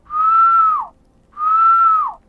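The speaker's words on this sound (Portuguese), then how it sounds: "Quando os assobios começaram." Two long eerie whistles sound close and clear, each holding a steady pitch before sliding downward at the end, separated by a short silence.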